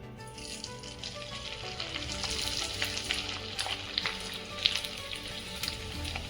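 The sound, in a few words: rice kurdai frying in hot oil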